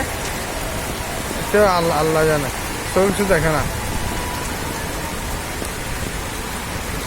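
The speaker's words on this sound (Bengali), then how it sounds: "দেখেন বৃষ্টি কী অবস্থা" Heavy rain pours onto a flooded street in Chittagong as a constant, loud wash of noise. Someone speaks briefly over it.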